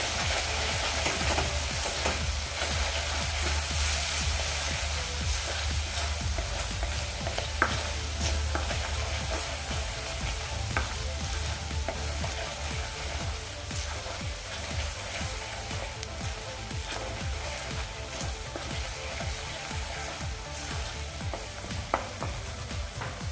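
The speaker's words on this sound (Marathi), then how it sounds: "हळद आणि कश्मीरी लाल तिखट हे पुन्हा आपण मिक्स करून घेऊया व्यवस्थित" Turmeric and Kashmiri red chili powder stirred in hot oil for a Koli-style mackerel curry: continuous sizzling and frying hiss with irregular scraping of a spoon against the pan, close and steady, with no talking.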